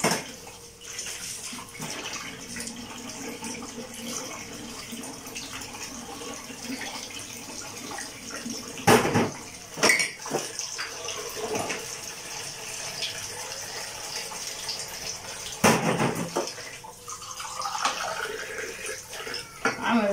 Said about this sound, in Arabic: نمسك الكوبايات بتاعتنا الاول يا حبايبي نغسلهم وننضفهم